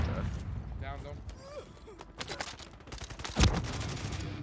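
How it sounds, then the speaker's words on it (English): Rapid gunfire bursts in a multiplayer shooter game, fired through a wall, with sharp close cracks and one heavy punchy blast, mixed with scattered game effects and voices talking. "I'm shooting through the wall"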